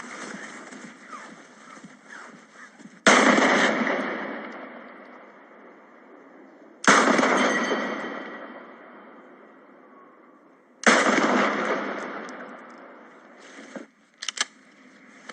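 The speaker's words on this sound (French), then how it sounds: "Trois coups de 9 mm tirés au pied des tours." Three 9 mm pistol shots fired at the foot of residential tower blocks, each a sharp loud crack trailing into a long echoing decay, spaced about four seconds apart over low ambient noise.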